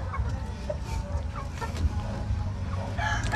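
A brooding hen clucks softly in short, scattered calls over a steady low background hum, fairly faint and without talk.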